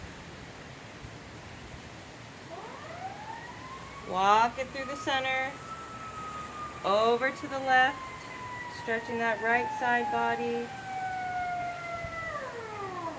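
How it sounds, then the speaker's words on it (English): A wailing emergency siren rises and falls in the distance throughout while a calm voice gives instructions over it. "Sorry for the sirens."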